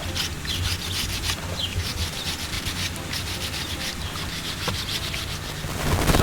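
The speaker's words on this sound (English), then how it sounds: "Definitely want to use water though, because the sandpaper plugs up really quick if you don't." Soapstone carving being wet-sanded by hand with sandpaper, a steady close rasping rub with rapid repeated strokes and no talk, continuous throughout.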